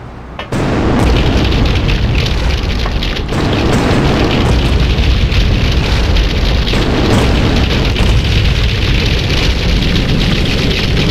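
Rocket launcher explosions in GTA2, a sudden heavy blast followed by a continuous loud roar of booming detonations that barely lets up, harsh and saturated throughout.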